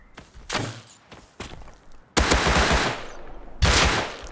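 Enemy gunfire in the survival game Rust comes in loud bursts: two short volleys, then a longer rapid rattle and a final burst, each with a sharp onset and no talking.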